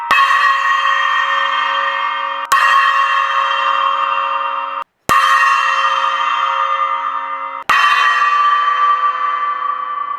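A China cymbal that has been reshaped toward a splash cymbal is struck four times at roughly even intervals. Each hit rings loud and bright, then decays slowly until the next strike.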